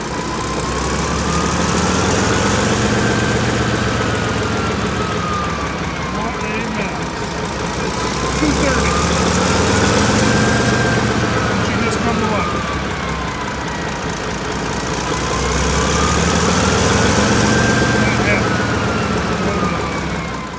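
A V12 engine runs on a cold morning with a loud, steady drone whose pitch slowly rises and falls in a repeating wave.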